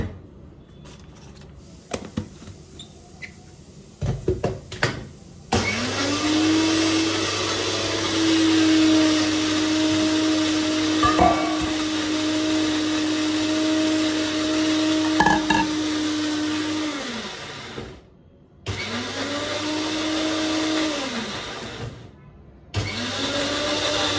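A kitchen mixer grinder blends chilli chutney with water. A few clatters come first, then the motor whines loudly and steadily, stops briefly, and runs again in shorter bursts.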